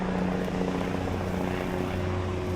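A helicopter flies over a sunny Manly Beach in Australia, its rotor drone a steady low throb and engine whir, continuous and fairly loud with faint outdoor ambience beneath.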